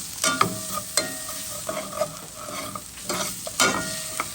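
Shrimp and bitter gourd frying in a pan while being stirred, with a soft steady sizzle under a series of irregular scraping and clattering utensil strokes, close and moderately loud.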